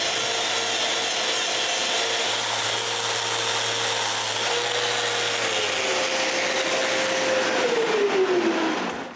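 A handsaw cuts through the wooden base of a homemade bandsaw in a steady, loud, continuous rasp close up, with no talk over it.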